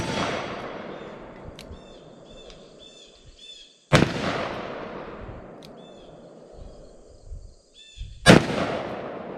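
Two loud, sharp reports from a Taurus Tracker .44 Magnum revolver at an outdoor range, spaced about four seconds apart, each ringing out over steady wind noise and a faint distant chirp.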